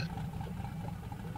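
Jeep Gladiator engine in the SnowRunner video game, a steady low idling rumble with no other sounds over it.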